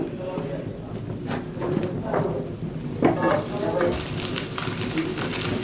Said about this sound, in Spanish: es la manteca que se está friendo